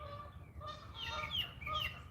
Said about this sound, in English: You can't see the geese. They're too far away to see.